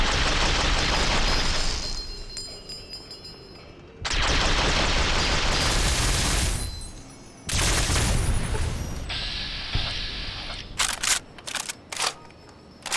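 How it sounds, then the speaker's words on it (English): Bursts of gunfire in the modded video game Fallout New Vegas, loud blasts of a couple of seconds separated by gaps, ending in a few quick sharp shots, with no talking. "Who's shooting at me?"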